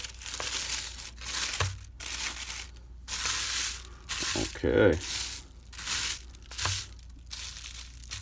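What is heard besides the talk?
crinkling wrapping paper while unboxing a Zippo lighter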